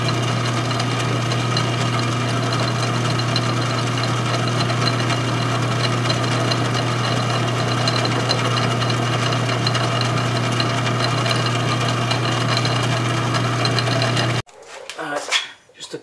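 Homemade water-cooled Briggs engine running steadily with a loud, constant droning hum and mechanical clatter, close up, cutting off abruptly near the end where brief faint handling sounds follow.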